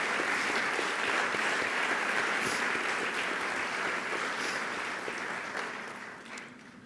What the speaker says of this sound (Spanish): Un aplauso para este gran equipo.